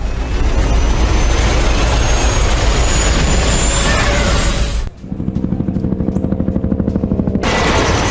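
A Russian Mi-8 helicopter in flight gives a loud, close roar of engine and wind, then shifts to a steady, rapid thumping of rotor blades.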